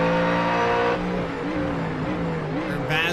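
A Mustang Dark Horse GT3 race car and others in sim racing traffic at Laguna Seca: a loud, sustained engine drone with shifting pitch and tire noise, with commentary over it.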